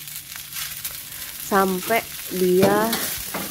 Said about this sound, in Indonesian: saya nyalakan api dengan api besar. Api besar tuh diaduk terus